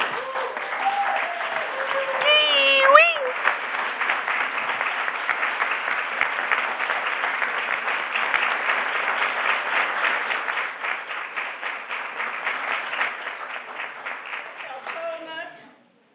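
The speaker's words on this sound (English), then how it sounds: "applause." Sustained audience applause fills a hall at a Women in Golf Foundation 30th anniversary celebration, loud and steady for over ten seconds before tapering off, with a voice speaking briefly at the start and end.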